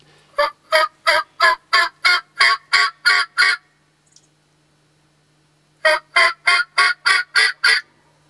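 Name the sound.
wild turkeys gobbling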